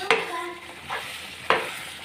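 Chicken gundkai masala cooking in a pan, a soft sizzle underneath as a spoon stirs and scrapes through it in three brief strokes, close by.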